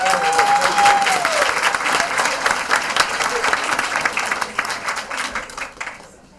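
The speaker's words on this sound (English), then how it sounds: "one last round of applause for our" An audience at a school committee meeting breaks into a long round of applause, thick, continuous clapping that slowly fades away at the end, with a brief voice heard near the start.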